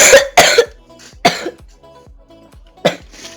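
Harsh, repeated coughing from a sick person, four separate bursts spaced unevenly across a few seconds, close to the microphone, with short quiet gaps in between and no talk.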